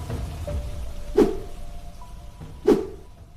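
Steady rain patters in the background, broken by two louder, dull thuds a moment apart.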